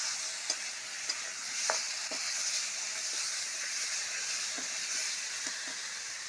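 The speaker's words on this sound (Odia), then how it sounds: "ହଳଦୀ ଗୁଣ୍ଡ ସବୁ ପକେଇକି ମସଲାକୁ କଷି ନେବା" Onion-garlic paste and turmeric masala fry in a pan with a steady, close sizzling hiss, broken by occasional sharp crackles and scrapes as the spice mix is stirred.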